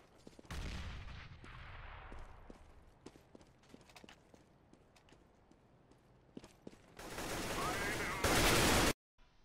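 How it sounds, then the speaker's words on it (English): Grenade and gunfire in CS:GO on Dust2: an opening blast that fades, a run of regular clicking footsteps and scattered shots, then a long roaring broadband explosion building near the end before a sudden cut. "Grenade."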